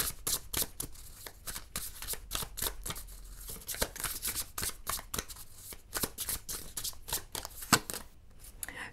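Tarot cards being shuffled by hand in quick, repeated riffling bursts, crisp and close, with nobody talking.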